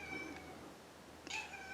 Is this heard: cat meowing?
yes